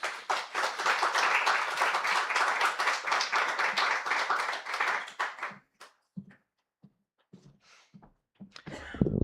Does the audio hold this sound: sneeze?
no